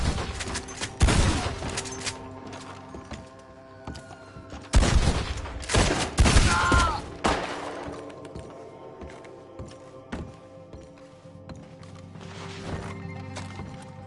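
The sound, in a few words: gunfire in a PS4 video game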